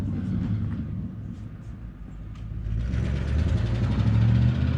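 Loud engine of a 1975 Plymouth Duster rumbling nearby, then rising as it accelerates away, a deep steady growl swelling in the second half with no talk over it.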